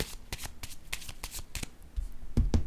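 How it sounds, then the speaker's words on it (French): Cards riffle and snap in a series of sharp bursts while a single card is drawn from a freshly shuffled deck, ending with a louder, fuller flurry of shuffling close by. "Je vais piger une autre carte"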